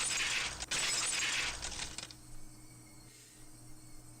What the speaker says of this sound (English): The unpleasant piercing sound of shattered glass, the crunching noise as Rena treads across the broken shards